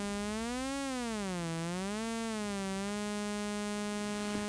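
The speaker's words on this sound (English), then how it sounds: "I'll just patch it in so you can hear the oscillator then, whose frequency is determined by the level" ETI 4600 synthesiser oscillator producing a buzzy harmonic-rich tone whose pitch slowly wavers up and down, then holds steady, heard alone and fairly loud with no talking.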